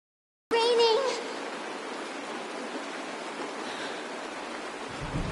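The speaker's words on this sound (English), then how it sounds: "It is raining!" Steady rain falls in the Honkai: Star Rail video game, a dense even hiss that starts abruptly and continues without pause, with a brief tonal chime near the start.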